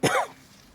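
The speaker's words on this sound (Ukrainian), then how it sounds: "І я починаю кашляти." A single short, harsh cough, close and loud, followed by quiet.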